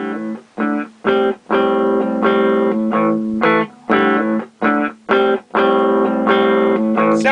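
Electric guitar through a Mesa tube amp with 12AX7 preamp tubes, played in short chopped chords with a slightly driven, warm tone, loud and close with brief gaps between strums.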